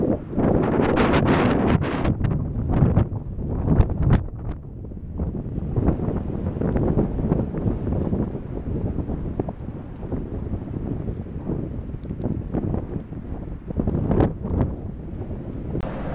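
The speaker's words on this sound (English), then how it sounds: "Very windy." Strong wind buffets the microphone beside Ellery Lake on Highway 120, a heavy, continuous roar with gusting surges and rumble throughout, no voices heard.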